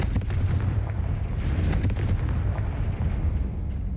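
A Confringo spell explosion in the Hogwarts Legacy video game sets off a loud, dense rumbling blast that stays sustained and roaring throughout, with crackling bursts layered over it and no voices.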